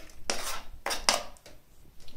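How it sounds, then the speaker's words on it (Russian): Squid salad with chopped garlic being stirred in a bowl, a few short clattering scrapes of utensil against dish in quick bursts, close and fairly quiet with no talking. "Все перемешиваем."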